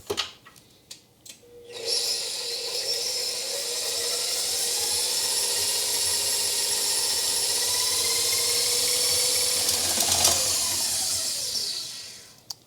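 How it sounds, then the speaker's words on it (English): Softened butter and sugar are beaten on high with an electric mixer, a steady whirring drone starting after a couple of seconds of clatter and running near and loud until it stops at the end. "I'm going to beat this on high until it's light and fluffy"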